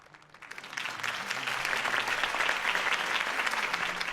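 Applause from a crowd in a video game swells in after a quiet start, then holds as steady, dense clapping throughout.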